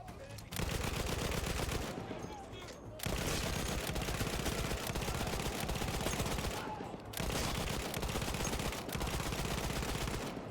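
Lewis gun fired in Battlefield 1, long sustained bursts of rapid automatic fire broken by two short gaps, loud and dense, with battle noise and faint voices underneath.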